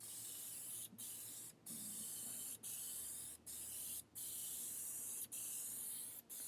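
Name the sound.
spray can applying DYC clear gloss top coat to wheel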